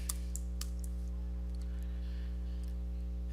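Typing on a computer keyboard while writing VBA code in Excel: a few quiet, scattered key clicks over a steady low electrical hum, with no speech.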